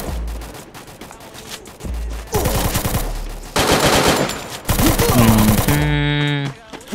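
SMG gunfire in the mobile battle royale Free Fire: bursts of rapid shots start and stop repeatedly, loud and close, mixed with other game sounds and some talk.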